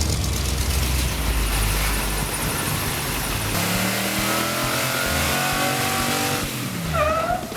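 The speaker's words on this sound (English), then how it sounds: "Okay, so it was running until I did a burnout." A 1969 Chevy C10 pickup's engine revs hard during a burnout, a loud roaring drone that shifts pitch partway through, then climbs again in rising surges, with no talking over it.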